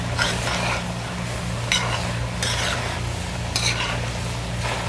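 Curry goat tripe cooking with pachounie in a pot, a spoon stirring and scraping in several short strokes over a low steady frying sizzle and hum, no talking.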